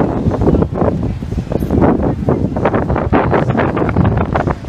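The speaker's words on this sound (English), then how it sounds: "This sudden wind gust and sandstorm came over Coney Island, and there's sand everywhere." Strong, steady wind gusting across Coney Island beach at night during a sudden sandstorm, loud buffeting roar on the microphone with rushing, rustling texture throughout and no talk.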